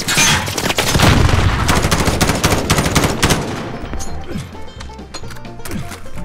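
Rapid, loud pistol gunfire in the Call of Duty video game, a dense string of close shots that thins into scattered reports over the last seconds.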